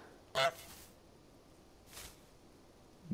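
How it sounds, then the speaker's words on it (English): Cartoon goose in Untitled Goose Game letting out a single sharp honk up close, followed a moment later by a softer rustling swish, with quiet background between. "press square to honk"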